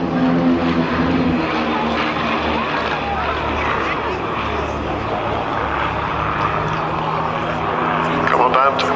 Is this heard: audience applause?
no